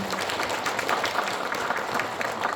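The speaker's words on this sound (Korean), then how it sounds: "뜨거운 박수 한번 부탁드립니다" An audience at a Korean reconstruction-association briefing session claps together, a dense, even patter of many hands that holds steady at moderate loudness throughout, with no speech over it.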